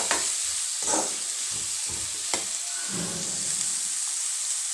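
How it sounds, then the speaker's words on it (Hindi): Onion and garlic frying in a little oil in a home kitchen pan give a steady sizzle and hiss, broken by repeated scraping stirs. "प्याज लहसुन डाल देंगे।"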